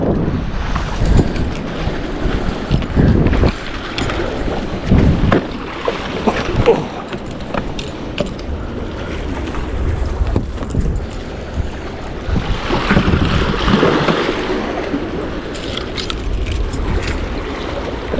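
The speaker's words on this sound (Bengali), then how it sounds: "প্রচুর ঠান্ডা বাতাস অনেক আজকে" Strong cold wind roars steadily near the sea in Oman, buffeting hard and rising in gusts, with a rough rumble throughout.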